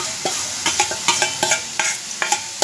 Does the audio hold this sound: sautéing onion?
yes